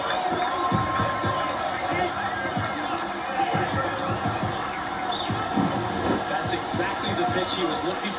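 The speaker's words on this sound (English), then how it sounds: "That's a great way to fire up this crowd." A stadium crowd cheers in the MLB The Show 24 baseball video game during a Giants vs Reds matchup: a steady, dense roar that swells and ebbs throughout without a break.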